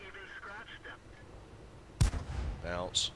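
A tank cannon shot in World of Tanks from a Pz.38t or M4 Thunderbolt: one abrupt, loud blast after quiet radio-like chatter, followed by mechanical clanking and a brief whine.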